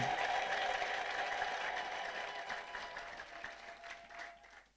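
A church congregation bursts into applause and ululation, a faint, distant wash of clapping and high trilling voices that holds steady and then gradually thins out.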